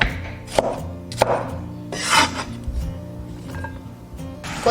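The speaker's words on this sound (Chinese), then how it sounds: "半个青椒切菱形块" A knife cuts half a green pepper into diamond pieces on a board, giving a few close, sharp chops with scraping and rubbing between them, and no talking.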